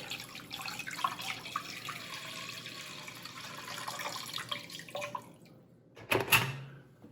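Hot water runs steadily from a tap into a bowl with salt and sugar for several seconds at moderate volume, then stops, followed by a short clatter near the end.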